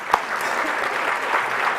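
An audience at an honoree gala gives dense, continuous applause, many hands clapping steadily at close range with one sharp louder clap near the start.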